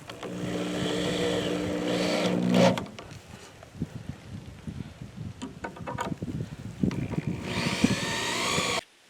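A power drill driving screws into a pallet wood door, whining bursts at the start and end with scattered knocks and handling clatter between them, close and loud, no talk.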